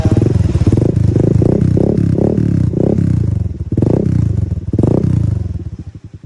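An RCS motorcycle engine with an open exhaust pipe revs loudly and close by in repeated surging bursts, a rough, rattling throb rising and falling about six times with no talk over it.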